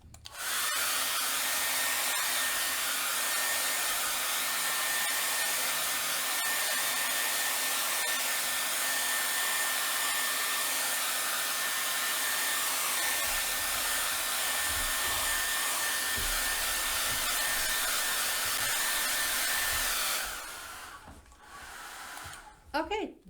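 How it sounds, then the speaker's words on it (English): A blow dryer runs continuously to dry painted stars, a loud steady whooshing hum lasting about twenty seconds before it cuts off, followed by a few faint handling sounds. "Okay, so we've taken the blow dryer to it."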